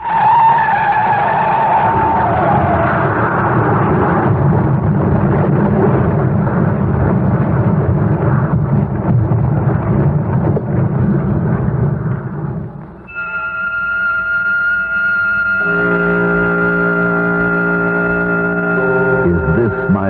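Tires skid and squeal loudly for a long stretch as a car slides in a 1977 CBS radio drama sound effect, then a brief dip gives way to a sustained blaring, horn-like tone.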